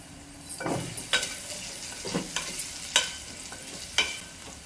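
Masala for meal maker pulao is stirred in a frying pan, a soft sizzle under several distinct scraping strokes of a spoon that come at a fairly even rhythm, close by with no voices.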